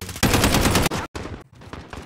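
Loud burst of automatic gunfire in a military shooter game, a dense sustained volley lasting most of a second, then a brief gap and scattered quieter shots trailing off.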